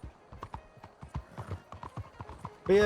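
Horse hooves clip-clop in a quick, steady rhythm in the video game Red Dead Redemption, fairly close, followed by a burst of bright chimes at the very end.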